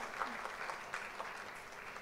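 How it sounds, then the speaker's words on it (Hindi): Studio audience at a televised talent show launch gives a contestant a steady round of applause, a dense continuous patter of many hands, fairly distant and faint. "तालियां।"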